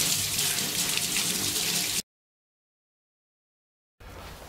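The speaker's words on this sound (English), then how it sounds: "I'm going to make sure I wash my brush." A tap runs steadily while a paint brush is rinsed clean after painting a brick wall, a close hiss of water for two seconds, then silence, then the flow resumes.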